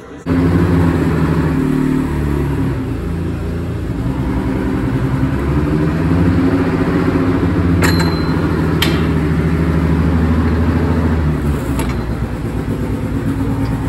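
A 2018 Honda Accord Type R engine with a downpipe and intercooler runs on a dyno. It gives a steady, loud, close drone that stays even throughout, with a couple of brief high clicks partway through.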